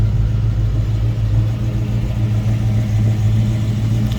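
A chopped 1940 Chevrolet street rod with a fresh blueprinted 355 crate engine runs steadily nearby, a constant deep droning hum that stays even and loud throughout.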